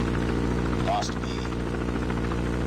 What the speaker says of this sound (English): Lost Alpha. Chopper gunner.